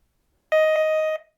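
A DR.ÖTEK metal detector gives a single sustained electronic tone of about two-thirds of a second while detecting a coin, clear and close against silence.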